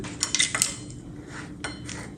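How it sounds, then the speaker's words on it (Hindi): A spoon stirring food colour and a pinch of salt into cake batter in a bowl, with a few sharp metallic clinks and scrapes against the bowl early on, then softer taps, close and alone. "अब इसकी मदद से हम इसमें मिक्स करेंगे"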